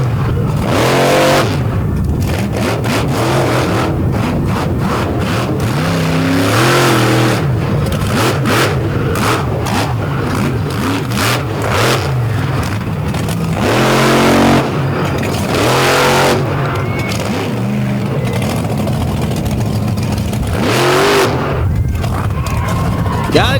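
Elliott Miller's truck, one of the loudest at a Tennessee Controlled Carnage truck event, revs hard and steadily with repeated throttle surges, while an announcer talks over it.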